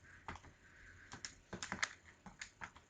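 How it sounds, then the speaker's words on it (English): Keys on a calculator are pressed in a quick, irregular series of soft, faint clicks, close by in an otherwise quiet room. "I'm just typing in the calculator here."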